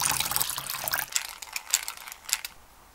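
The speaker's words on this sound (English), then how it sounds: "Now dilute it with 50 milliliters of distilled water." Distilled water pours into a container to dilute a DIY powder coating stripper concentrate, a close trickling, splashing stream with scattered drips, fading out near the end.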